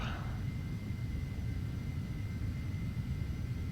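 A Carenado Phenom 300 business jet climbing off the runway in a flight simulator, a steady, loud low engine rumble with a faint high whine, continuous and unchanging throughout.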